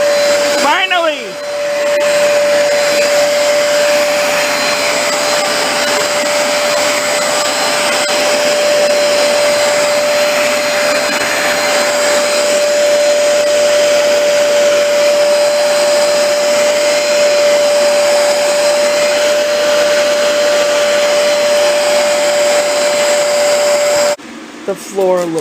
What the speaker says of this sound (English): It's a smaller one than my old rug cleaner.